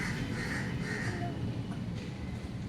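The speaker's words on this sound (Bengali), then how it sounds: "শালিক পাখি চলে এসছে" A common myna perched in a tree gives a few harsh, raspy calls over a steady low background hum in a calm morning setting.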